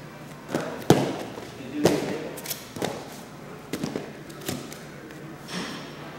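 A gymnast landing a round off and back handspring, a series of dull thumps and thuds of feet and hands striking the floor at uneven intervals, moderately close.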